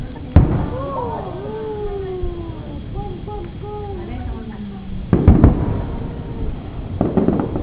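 New Year fireworks burst with sharp loud bangs near the start and clustered crackling explosions later, while whistling tones sweep between them and a few people talk and exclaim.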